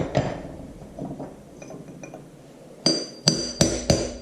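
Hammer striking a chisel on a tractor flywheel during engine restoration of an IHC Farmall Super MTA, a few dull taps followed by four sharp ringing metallic blows, close up with no talking.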